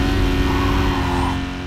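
A Ford Mustang engine in Need for Speed Carbon drones loudly and steadily with a buzzy, tonal hum, easing slightly toward the end.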